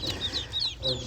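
Freshly arrived ducklings give a quick series of high, thin peeping calls, close by and fairly soft.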